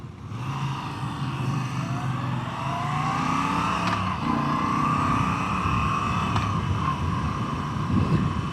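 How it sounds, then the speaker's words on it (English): A motor engine revs and climbs steadily in pitch, loud and close, with wind rushing past and the roar rising and falling slightly. "no bike makes the sound that this bike does"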